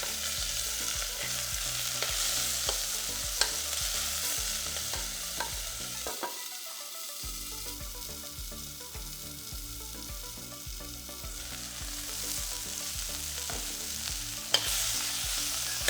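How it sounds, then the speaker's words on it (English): Moist minced pork fries in a pot, spitting and splattering in a dense, continuous sizzle with rhythmic stirring scrapes close by, no voices over it. "there's a lot of splattering here because the minced pork has a lot of moisture in it"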